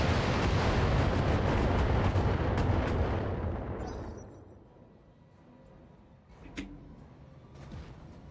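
Heavy weapons fire pounds mechs in Battletech with the Extended 3025 mod: a loud, continuous barrage of booming shots that fades out midway, followed by a quieter lull with a single sharp impact and faint rumbling.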